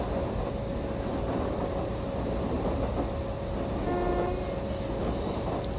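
The Karnataka Express rumbles steadily and loudly as it overtakes the Mahamana Express, a continuous rolling roar with a steady tonal hum and brief metallic squeals near the end.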